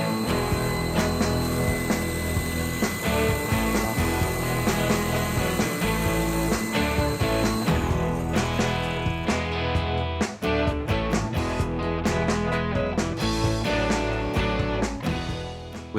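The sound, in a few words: table saw with dado stack cutting a rabbet in wood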